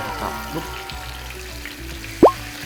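Meat skin deep frying fully submerged in plenty of oil, giving a steady low sizzle throughout with one short sharp pop near the end.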